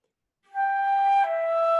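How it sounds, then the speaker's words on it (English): A single sustained flute note played straight without vibrato starts cleanly after a brief silence. The tone holds steady and clear, with a slight shift in pitch partway through, and no talk. "just like straight flute tones sound like this."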